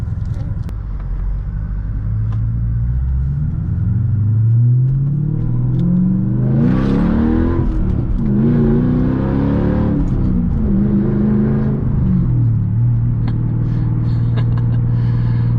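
A manual-swapped Mercedes E55 AMG sedan engine revs and accelerates loudly through several rising pulls, with a deep rumbling tone throughout.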